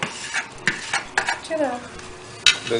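A spoon stirs and scrapes chicken curry around a metal pot, with sharp clinks and knocks against the sides at irregular moments.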